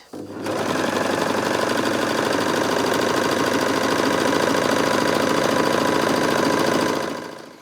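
Bernette b64 Airlock overlocker stitching thick stretch fabric, a steady, fast mechanical whirr with rapid needle chatter running continuously at close range after a brief start, then stopping.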